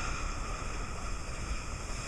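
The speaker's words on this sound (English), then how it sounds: "the waves were crashing against the rocks" Ocean waves crash against rocks at a beach, a steady, faint wash of surf and wind noise with no voices.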